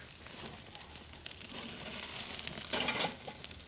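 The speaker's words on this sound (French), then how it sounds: "Pendant que le poisson cuit, les condiments entrent dedans en même temps." Fish braising with seasonings over a fire, heard as a quiet, steady sizzle and crackle up close, swelling slightly near the end, with no talk.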